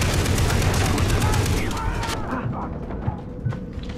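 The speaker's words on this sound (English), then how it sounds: "Shooting barrels." Loud bursts of gunfire and explosive blasts in the Far Cry 3 video game as barrels are shot, dense and overlapping at first, then thinning out into scattered later shots.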